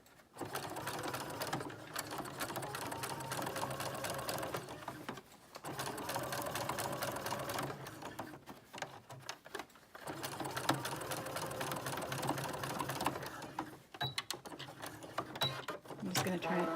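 Home sewing machine stitching a set-in sleeve into a garment, a close mechanical whirring in several runs of a few seconds each, broken by short pauses.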